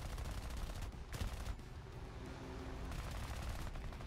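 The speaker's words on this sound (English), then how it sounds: "Okay, he's shooting back." Aircraft machine guns firing in War Thunder, with dense, continuous rattling bursts that run nearly the whole time, loud and steady and separated by short gaps, over constant engine drone.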